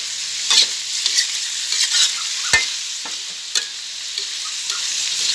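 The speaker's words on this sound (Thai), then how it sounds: "นี่เนื้องัวผัดอย่างนี้นะอร่อยมากเนื้องัวติดมัน" Fatty beef sizzles steadily in a hot pan for a Thai holy basil stir-fry, with a spatula scraping and clacking at irregular moments over a continuous bright frying hiss.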